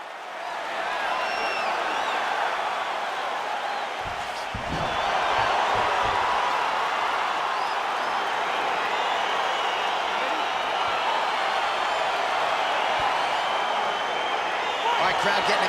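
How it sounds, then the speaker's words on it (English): A simulated UFC arena crowd for an Israel Adesanya versus Paulo Costa video game bout roars steadily, a loud continuous wash of cheering with brief thuds and spikes. "crowd getting excited as this fight gets underway"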